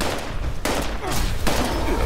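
Plasma flamer weapon fired in Fallout 76, a dense, continuous roaring blast that runs loud and steady through the whole stretch with brief dips, with no talk over it.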